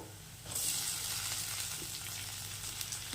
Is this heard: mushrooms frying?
yes